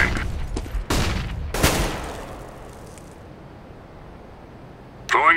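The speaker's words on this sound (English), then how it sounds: "Deploying flashbang." Counter-Strike match with flashbang grenades going off, two sharp loud bursts in quick succession near the start, then a quieter stretch before another noise at the end.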